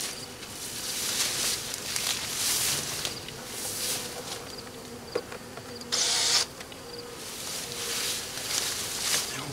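Honey bees buzz steadily in an observation hive, a soft continuous hum with brief louder swells as individual bees pass close.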